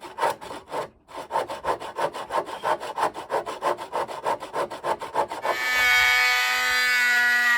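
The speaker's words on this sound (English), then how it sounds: "Always gonna need some sanding." Steady rhythmic rasping of wood edges being hand-sanded, quick back-and-forth strokes close up, then a sustained whirring hum with a high whine to finish.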